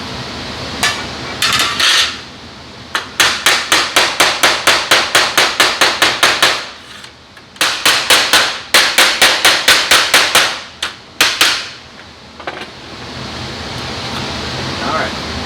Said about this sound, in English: you're going to have to sit there and do some hammering and dollying.